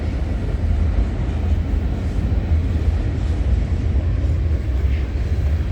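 Heavy low rumble and rolling rattle of a CN freight train with an Elgin Joliet & Eastern heritage unit passing close trackside at night, loud and steady throughout.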